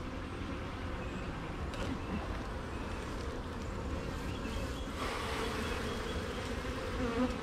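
Honey bees from a hive opened for its first spring inspection hum as one steady, close buzz that swells slightly toward the end, with no voices over it.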